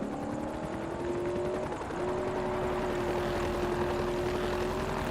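A helicopter in a Forza Horizon race on Xbox 360 drones steadily with a loud, continuous rotor and engine whine that holds a sustained tone and dips briefly partway through.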